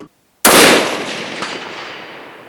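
A single sharp, loud rifle shot from a 6.5 Creedmoor cracks close by after brief silence, then a long echoing decay rolls away across open ground.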